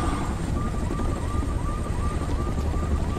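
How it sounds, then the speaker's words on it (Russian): Drones hover overhead in the video game Homefront: The Revolution, a steady mechanical whir with a faint repeating pulse. It fills the scene evenly and continuously, with no one talking. "Дроны у нас тут повсюду летают."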